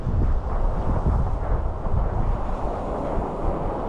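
Gusty wind blows across a rocky coastline at Aireys Inlet, buffeting a GoPro camera with loud, fluctuating low roaring rumbles.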